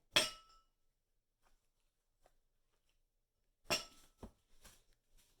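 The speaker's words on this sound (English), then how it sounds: "plop a few ice cubes in there" Ice cubes dropped into a glass of clover iced tea sweetened with honey give a sharp clink, then after a quiet pause a second cluster of clinks and knocks as more cubes settle, all close and alone.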